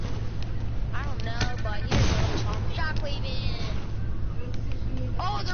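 Sniper shots crack out in a Fortnite match, a few sharp reports scattered through constant game noise and overlapping talk from players.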